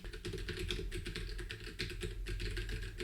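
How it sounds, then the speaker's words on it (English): Steady, fast clacking of typing on a computer keyboard, captured through a Fifine Tank3 USB/XLR dynamic microphone; continuous close keystrokes with no pauses and no talking. "So the clackety-clack of the keyboard is just the general sound"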